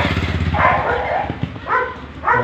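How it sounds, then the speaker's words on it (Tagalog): Dogs barking outdoors along a walking route, a few separate sharp barks spaced apart at moderate distance over low background rumble. "May mga aso."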